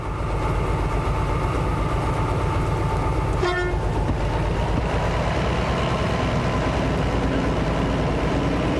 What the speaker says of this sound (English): let's jump back in our locomotive